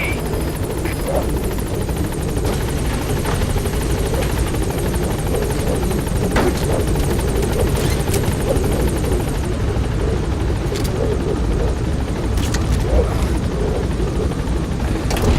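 The B-Quad helicopter in MGSV arrives at a landing zone, its rotor thumping loud and close in a continuous chopping drone with a whining engine overhead.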